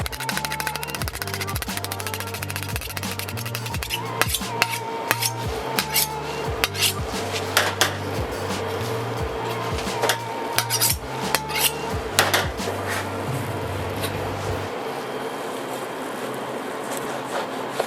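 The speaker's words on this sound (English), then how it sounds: "I think I have to sharpen the knife." Dull kitchen knife being sharpened, a steady run of scraping and clinking strokes with repeated metallic taps and knocks, close up and fairly loud, no voices.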